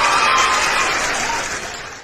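A burst of applause from a crowd, dense and steady clapping that fills the whole stretch and slowly fades near the end.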